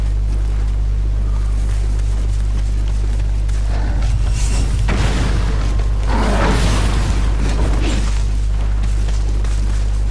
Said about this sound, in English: They're throwing bombs.